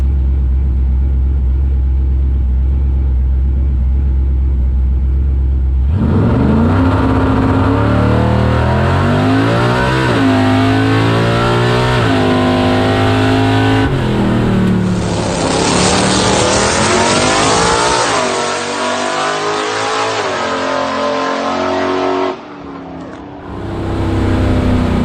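A drag race car roars off the trans brake at full throttle, its engine climbing through rising harmonic sweeps with gear changes, loud and close in an onboard view for about sixteen seconds before lifting off.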